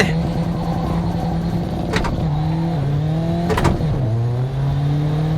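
A Toyota Hilux Revo pickup accelerates hard in Assetto Corsa, its engine droning loud and close, rising in pitch, then dropping sharply at two gear shifts before climbing again.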